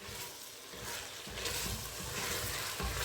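Codfish sautéing with onions and garlic over low heat in a pan gives off a steady, soft sizzle and crackle, with slight surges as the contents shift.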